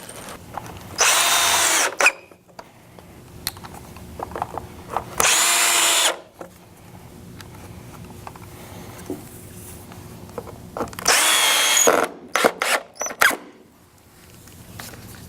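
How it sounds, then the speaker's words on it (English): A Phillips screw gun drives screws into pre-drilled holes in wood while assembling an indoor therapy gym, three loud close bursts of whirring motor, each about a second long, with small clicks and handling noises between them. "your Phillips screw gun and drive the screws home in each of the pre-drilled holes"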